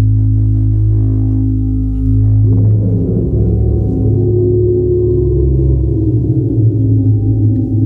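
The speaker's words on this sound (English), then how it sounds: "this is a little bit of the reverb effect." Reverb effect from a Verbos Electronics Multi Delay synth module, where a loud, sustained low synth tone shifts after a couple of seconds into a wash of washy, reverberant tones that hold steady to the end, with no talking.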